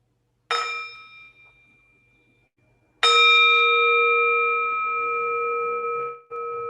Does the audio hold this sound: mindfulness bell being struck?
yes